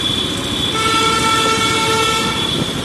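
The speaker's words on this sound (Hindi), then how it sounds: "हॉर्न पता नहीं क्यों लोग मारने लगे" Car horns honk on a busy city road, tonal blasts layered over constant traffic noise, loud and continuous across the clip with no speech.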